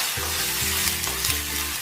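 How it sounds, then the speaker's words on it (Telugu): A tempering of red chilli, crushed garlic, curry leaves and a pinch of asafoetida frying in hot oil, giving a close, steady sizzle as the spices are stirred in the pan. "కొద్దిగా కరివేపాకు, చిటికెడంత ఇంగువను కూడా యాడ్ చేసుకుని తాలింపంతటిని కూడా చక్కగా వేయించుకోవాలి."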